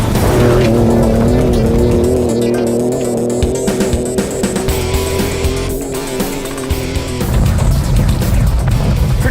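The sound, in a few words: 2017 Ford Raptor truck drifting with tire squeal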